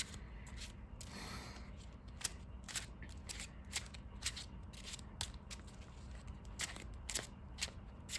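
Trading cards in clear sleeves being shuffled, a rapid series of crisp riffling bursts repeating at a steady pace over a low background hum, close and fairly quiet.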